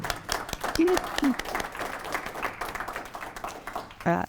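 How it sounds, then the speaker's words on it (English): Audience applause for speakers at a historical society lunchtime lecture, a moderate round of clapping from a seated crowd with voices and a brief vocal sound over it, fading toward the end. "Can we get one more round of applause for all?"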